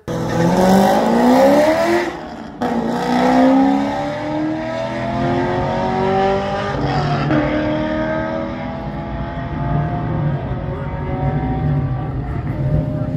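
A C6 Corvette with an LS2 V8 on an acceleration run, loud engine revving up through rising gears with brief shift breaks, pulling hard and close before easing into a sustained high-speed drone.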